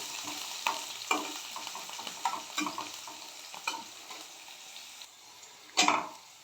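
Chopped carrots and beans fry in hot white oil for egg chowmein, a steady sizzle broken by repeated scraping stirs of the pan and one sharper clatter near the end, with no voices.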